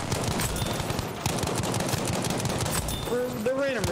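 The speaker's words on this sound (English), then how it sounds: "Where's that gunfire coming from?" Dense, continuous automatic gunfire and explosions from the Battlefield 5 video game fill the whole stretch, loud and busy, with a rising whine or vehicle tone near the end.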